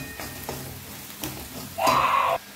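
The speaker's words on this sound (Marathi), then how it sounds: "तो छानपैकी तेलात परतून घ्यायचा आहे।" Coriander powder and spice masala sautéing in hot oil for a dry soybean chunk curry, heard as faint stirring scrapes followed by a brief, louder burst of sizzling near the end, with no talk.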